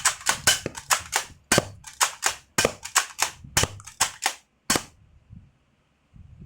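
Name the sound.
rapid gunfire from a gun in a video game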